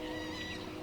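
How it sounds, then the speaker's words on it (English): A brief, sustained multi-tone train whistle sounds steadily, a harmonic horn-like blast at moderate volume with no voices. "No, that's a train whistle. That's not a bird."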